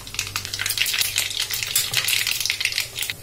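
Mustard seeds sizzle and crackle steadily in hot oil in a kadhai, a dense continuous frying hiss with rapid popping throughout, close and fairly loud with no talking.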